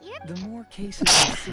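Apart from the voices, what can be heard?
sneeze in a video game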